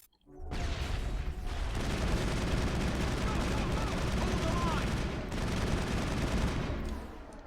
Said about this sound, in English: Open fire. Open fire!